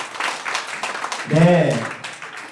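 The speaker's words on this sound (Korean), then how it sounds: "큰 박수 부탁드리겠습니다" A short burst of applause from a crowd at a campaign office opening ceremony, followed by a single voice speaking briefly over the fading clapping.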